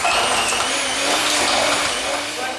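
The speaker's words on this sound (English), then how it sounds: "So I creamed the butter and the sugar together" An electric mixer whirs steadily, close and loud, creaming butter and sugar for cardamom, ginger and rose biscuits, a continuous motor drone with no talking over it.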